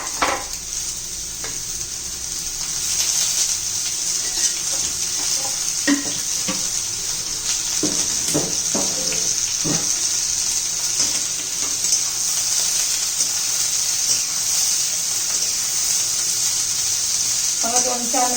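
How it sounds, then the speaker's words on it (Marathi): Ridge gourd sautés in oil over medium heat for a chutney, a steady bright sizzle with repeated scraping stirs and clinks from the spatula, all close, with brief bits of talk now and then. "मध्यम गॅसवर चांगल्या व्यवस्थित परतून घ्यायचं आहे"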